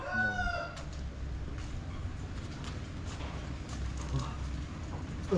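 A rooster crows near the start among a flock of chickens clucking softly, with the faint rustle of a farmyard behind them.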